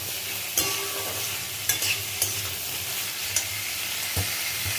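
Bitter gourd and pumpkin fry in hot oil with a steady, loud sizzle, broken by occasional clicks and scrapes of stirring in the pan.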